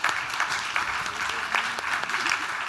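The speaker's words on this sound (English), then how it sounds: "Please, let's clap." Applause from a conference audience welcoming panelists onto the stage at an NFT.NYC 2022 fashion NFT panel, a steady dense wash of clapping lasting a few seconds with no clear voices over it.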